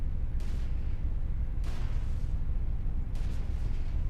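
Tank cannon fire in a video game: three heavy booming shots spaced a little over a second apart, each a sharp blast fading into rumble over a steady low background drone.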